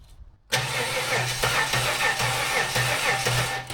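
A budget L67 engine fitted in a rear-wheel-drive car abruptly fires up after a short quiet moment, then settles into a loud, slightly uneven idle with a steady pulsing throb.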